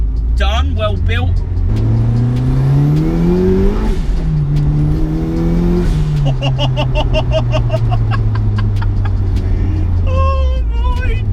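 Turbocharged 300 bhp Mazda MX5 accelerating on boost, loud engine rising through several gear pulls with clear upshift drops, heard close from inside the car with some turbo and exhaust crackle.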